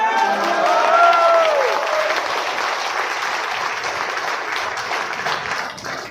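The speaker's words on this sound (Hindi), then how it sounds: "ज्यादा तेज ताली बजाए" Loud, sustained clapping from an audience at an RCM business meeting, dense and continuous throughout, with faint voices and a brief tonal warble near the start under the applause.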